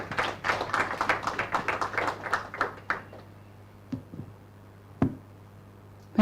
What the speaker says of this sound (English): Round of applause as Sheila Witi comes up